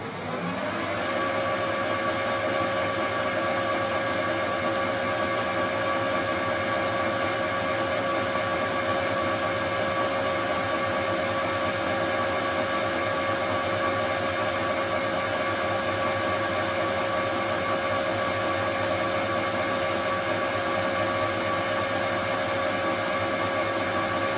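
A restored horizontal/vertical milling machine cutting a hole through aluminium makes a loud, unbroken whirring drone with steady whining tones that holds constant for the whole stretch, and no voices.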